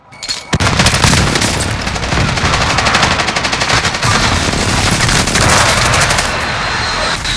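Sustained automatic fire from a Stoner machine gun in a shooter video game's battle royale resurgence mode, loud and close, rattling almost without pause for several seconds after a brief quiet start.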